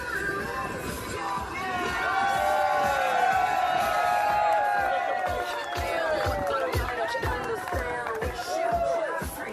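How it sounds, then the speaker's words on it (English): Cycling fans on the Galibier climb cheer, whoop and shout close by in a loud, continuous crowd roar that rises and falls with excited voices. "And this kid almost got as big a cheer as Steve Cummings did"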